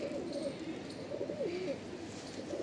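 Low, rolling coos come from a brown-green Madrasi pigeon at a village bird sale in Chhatarpur, Delhi, rising and falling in a few gentle, quiet phrases close by.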